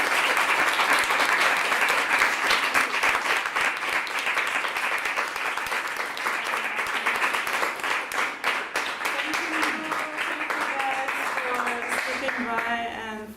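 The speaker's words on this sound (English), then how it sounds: "big round of applause for you" Audience applause in a contemporary art venue after a panel conversation, dense sustained clapping that fills the whole stretch and thins slightly toward the end as a voice begins to speak over it.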